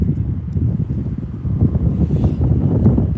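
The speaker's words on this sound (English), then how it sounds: "Just struggling with the wind at the moment." Strong, steady wind buffets the microphone outdoors at Birmingham Airport, a continuous low roaring rumble that swells and gusts throughout, with no voices heard.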